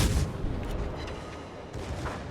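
Naval guns fire from destroyers in the World of Warships battle game, heard as deep, rumbling booms. A heavy blast opens the clip and softer rolling reports follow under a constant low roar.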